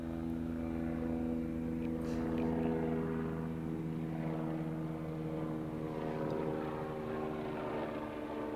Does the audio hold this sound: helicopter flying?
yes